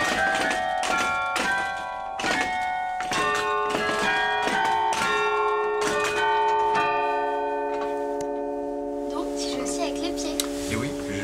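Bollée carillon bells in Châtellerault ring out as keys pulling steel wires strike each bell in turn, giving a loud, resonant sequence of struck notes with long ringing overtones that overlap and then decay into quieter lingering tones.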